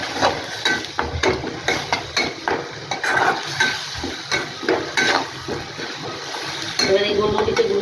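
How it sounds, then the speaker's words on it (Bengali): Spoon stirring Schezwan sauce in a pan just after black pepper powder goes in, with repeated scraping strokes over a steady sizzle and clinks of utensil against metal, a voice talking briefly. "তো নাড়াচাড়া করে এবার একটু গোলমরিচের গুঁড়ো দিয়ে দিলাম"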